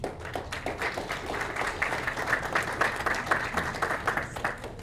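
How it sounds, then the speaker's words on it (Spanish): An audience applauds a speaker at a presentation on alien mummies discovered in Peru, steady rhythmic clapping from a moderately sized crowd at medium distance, continuing evenly across the whole stretch. "Un aplauso para él."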